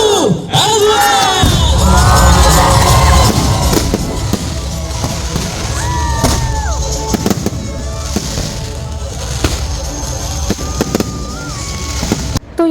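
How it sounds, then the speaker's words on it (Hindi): Firecrackers bursting at a wedding celebration after the garland exchange, a dense barrage of loud cracks and bangs with whistling rockets rising, while a crowd cheers and shouts throughout. "वरमाला के बाद इतनी ज़्यादा फायरिंग हुई ना, मतलब जो भी पटाखे वगैरह हैं वो बहुत ज़्यादा होने लगी"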